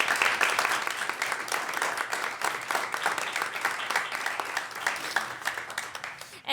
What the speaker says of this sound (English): So let's give another round of applause to our candidates for coming.